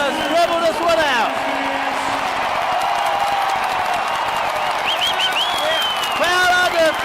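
The crowd at a Dallas Mavericks basketball game cheers and applauds as the final seconds tick down, a loud roar with sneaker squeaks, while an announcer talks over it.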